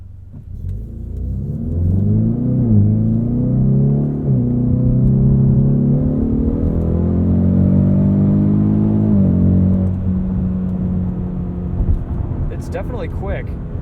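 A 2020 Ford Mustang EcoBoost with the High Performance Package accelerates hard, its mid-pitched engine note climbing through the revs. Audible gear changes break the rising sweeps before the engine settles and fades toward the end.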